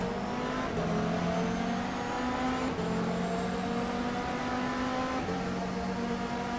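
BMW and Porsche racing cars in GTR 2 on the long circuit in France, engines droning and revving steadily, with repeated gear shifts and no talk.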